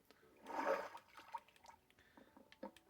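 Water flowing and splashing in the Minecraft video game, a brief rushing burst followed by faint trickles and small drips, fairly quiet.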